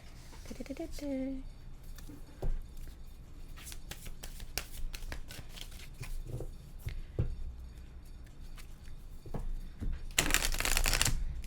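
Chakra oracle cards being shuffled and drawn during a tarot reading, with crisp riffling, flicking and tapping bursts that build to a dense shuffle near the end, with faint talk underneath.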